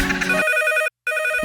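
Telephone ringing on a radio comedy show, a bright electronic ringtone trilling in two bursts separated by a short silent gap, loud and close.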